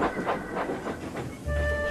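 A train rolls along the rails in rhythmic clickety-clack beats, then a steady hiss of steam rises at the end, with no voices.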